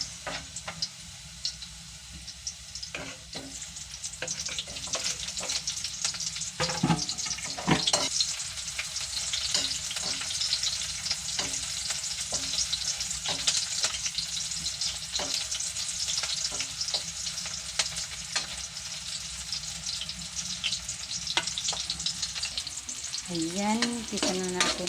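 Onion and garlic sautéing in a pan for adobong sitaw, a continuous bright sizzle broken by frequent sharp clicks and scrapes of a spatula stirring, close and steady throughout.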